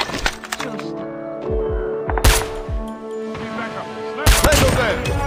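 Arctic 50 sniper rifle shots in a ranked Search and Destroy video game match: a few sharp, loud booming reports spaced a second or two apart, with a heavy final blast among softer game effects and tonal background sound.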